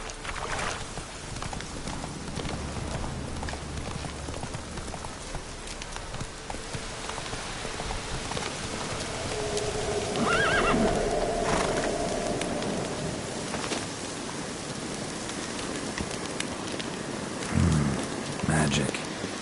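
Roach the horse trotting in The Witcher 3, steady hoof clip-clops running throughout under a bed of rain and some other game sound, moderately close.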